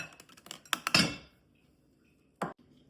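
A cooking pot is shifted across a kitchen while oxtail is prepared: a cluster of metallic clanks and scrapes, then a pause and one more clunk, fairly close and with no talking.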